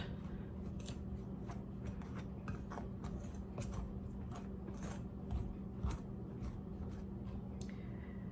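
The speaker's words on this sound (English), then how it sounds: "I'm going to use my pastry cutter, and I'm going to cut that shortening and butter into it" Pastry cutter working shortening and butter into flour in a bowl, making soft repeated scraping and crunching strokes, faint and close over a low steady background hum.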